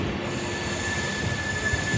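An Amrit Bharat Express train rounds a curve through an old rail yard toward Tiruchirappalli Junction, its wheels holding a steady, piercing metallic squeal over a constant rumble of the moving cars.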